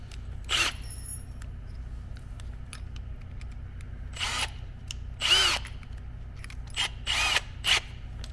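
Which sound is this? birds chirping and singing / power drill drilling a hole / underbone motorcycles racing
power drill drilling a hole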